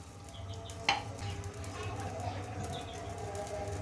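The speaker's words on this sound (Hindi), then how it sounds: "कढ़ाई में मैं ऐड करूँगी ऑयल तकरीबन 2 टेबल स्पून" Oil goes into a hot kadai, a soft continuous sizzle and hiss with a brief scraping clank near the start, close by.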